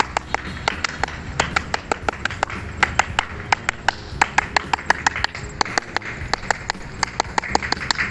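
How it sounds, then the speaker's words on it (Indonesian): Indonesian scout claps from a group, sharp hand claps repeated in a rhythmic pattern of sets, loud and close with a roomy background, no talking. "3 kali tepuk pramuka."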